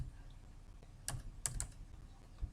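Computer keyboard typing in a quiet room, a few faint, quick key clicks in a short burst, with no talking.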